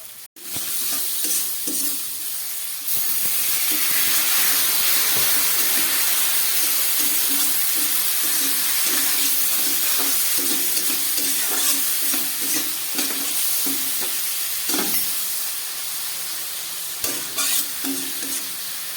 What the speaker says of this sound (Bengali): খুব ভালো করে দিয়ে একটু মশলাটা কষিয়ে নিই।